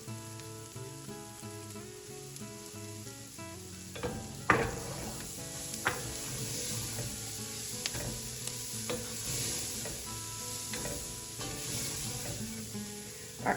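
Garlic hits a pan of translucent onions for Southern-style black-eyed peas: a continuous crackling sizzle with spoon stirring and occasional sharper clatters against the pan, alone without talk.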